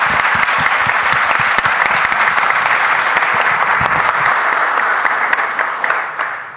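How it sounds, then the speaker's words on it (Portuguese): Sustained applause from an audience at a talk event, steady dense clapping throughout that tapers off slightly at the end, loud and close with no voices over it. "uma salva de palmas a todos vocês."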